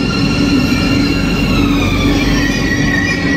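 Train pulling into a busy station platform where many people wait, a loud steady rumble with a faint high squeal of wheels, continuous and close.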